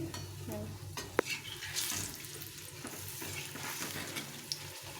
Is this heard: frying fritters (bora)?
yes